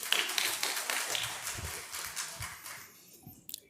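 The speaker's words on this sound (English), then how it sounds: "Have a huge round of applause." Audience applause at the ISBACON 2024 conference felicitation, a burst of dense clapping that gradually thins and fades toward quiet, ending with a few stray claps.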